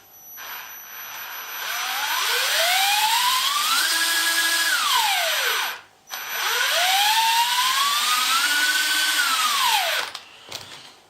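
The motor of a cheap RC crawler whines as the throttle is pushed, rising in pitch, holding, then falling away, twice in a row with a short gap between, close and loud.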